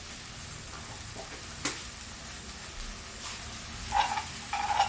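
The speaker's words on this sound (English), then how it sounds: "get the butter all melted" A teaspoon of butter melting in a pan, giving a soft, steady sizzle with a few brief crackles and clicks near the end, close and with no talking.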